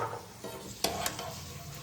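Nuts and raisins fry in a pan for biryani, a soft steady sizzle with a couple of sharp metallic clinks from stirring, close and quiet with no voices.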